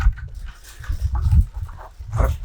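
A pair of dogs on a homestead pant and huff excitedly close by, breathy bursts rising and falling in quick irregular rhythm with a snort-like swell near the end.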